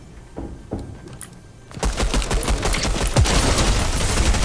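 Dense game gunfire bursts out after a quieter stretch of scattered shots, rapid overlapping rounds continuing loudly to the end with no talk.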